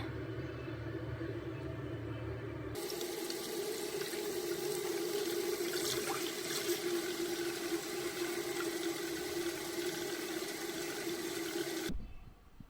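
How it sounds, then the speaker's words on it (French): Water running steadily into a cooking pot of artichokes, a continuous rushing pour that starts abruptly, holds at an even level for about nine seconds, then cuts off, with no talking. "Je vais rajouter de l'eau Inch'Allah."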